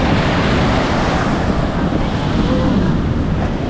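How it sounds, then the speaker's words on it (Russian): Large ocean waves crashing on a beach in Puerto Escondido, a loud, continuous wash of surf noise mixed with heavy wind buffeting the microphone. "Теперь стало понятно, почему здесь не купаются люди, потому что волны и правда огромнейшие."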